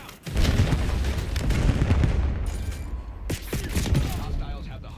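A Semtex grenade blast in Call of Duty Black Ops 7 during a hardpoint match, a loud close boom at the start followed by rumbling gunfire and further heavy impacts, with a voice briefly speaking over the fighting.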